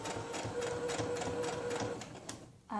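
A sewing machine stitches elastic casing on a cloth diaper shell, a rapid, even mechanical chatter close up and steady for about two seconds before slowing and stopping.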